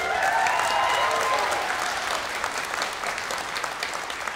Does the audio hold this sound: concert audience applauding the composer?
yes